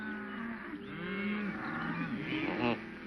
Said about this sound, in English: Toro, how would you like to own a herd of those new white faces?